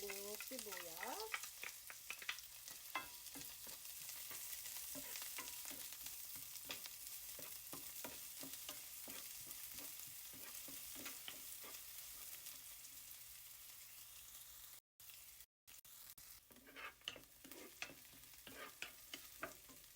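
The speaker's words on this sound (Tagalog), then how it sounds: "pag okay na yung mantika, igigitin na natin yung sibuyas" Onion sautés in hot oil in a pan over medium heat for lechon paksiw. A continuous close sizzle carries rapid stirring scrapes, with a brief pause in the middle.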